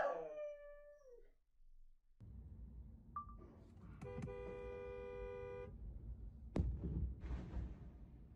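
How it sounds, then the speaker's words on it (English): A dog howls and whimpers in a drawn-out, dramatic way after its toy falls off the couch, with long wavering cries over steady background noise and a short sharp sound near the end. "This dog has an overly dramatic reaction when their toy falls off the couch."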